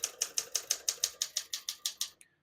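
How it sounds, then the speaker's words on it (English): Keys strike the platen of a 1961 Olympia SM7 portable manual typewriter in a quick, even run of about thirteen crisp clacks, close and clear, ending with a small bell-like ding and then silence. "We're going to keep that on single for now and finish typing."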